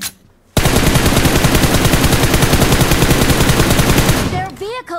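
Rapid automatic gunfire in a first-person shooter video game, a loud unbroken burst of close shots lasting about four seconds after a brief quiet start, then trailing off into game sound effects.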